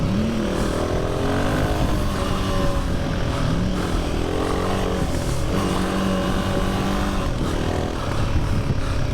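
A Royal Enfield Himalayan 450 motorcycle on a group ride, its engine droning steadily with rising and falling revs and shifting pitch under strong wind rush, loud and continuous from the rider's position.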